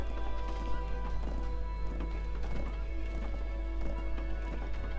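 Horse hooves clip-clop steadily in the video game Black Desert as a mount travels through woods and farmland, a rhythmic run of hoofbeats over a constant low hum, with faint background talk.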